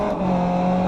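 A race car engine at Circuit Park Zandvoort in the iRacing sim holds a steady, loud drone at close range, with a slight rise in pitch near the end.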